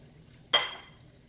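A single quick clatter of cut potatoes dropping into a cooking pot for a Jamaican coconut curry chicken potpie, one short bright burst that fades away in a quiet kitchen.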